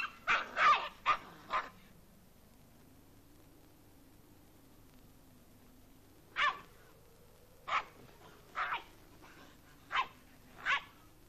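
A dog barks in a quick cluster of sharp yips, then after a quiet pause gives several spaced single barks, close and clear over a low steady hum.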